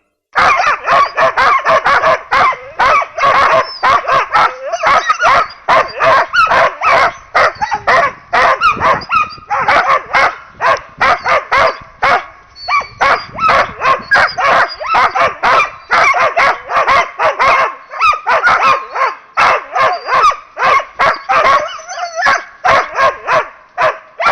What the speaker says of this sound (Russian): Если Лайка лает слишком азартно, прыгает под дерево, бросается на него, грызет сучья и яростно царапает кору ствола